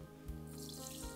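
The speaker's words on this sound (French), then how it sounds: "Et j'ajoute de l'eau." Water poured from a tap into a saucepan, a steady close hiss of running water filling the pan, no talk.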